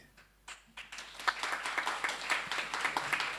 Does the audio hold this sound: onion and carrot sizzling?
no